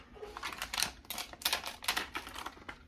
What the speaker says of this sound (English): let me trim up this vinyl real quick